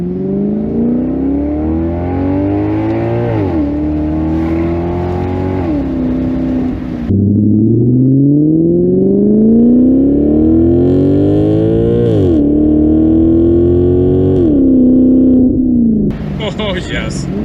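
Maserati GranCabrio V8 convertible accelerating hard in manual mode, engine note climbing through repeated rising pulls with brief dips at each gear change, loud and close, with a voice talking over it.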